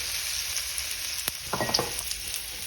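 Fresh garlic frying with bacon in bacon grease and butter for a chuck roast, giving a steady close sizzle with a few sharp crackles and pops midway.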